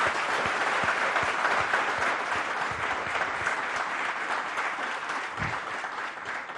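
An audience applauds at a student awards segment of a televised program in Kozan, steady massed clapping that holds evenly, with occasional louder nearby claps and a brief thump.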